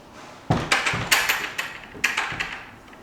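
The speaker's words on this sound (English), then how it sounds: "They're like accordion doors." Folding accordion-style doors in an apartment bedroom being slid open and shut, giving a run of several sharp knocks and rattling clacks in uneven rhythm, close and fairly loud, with no talking.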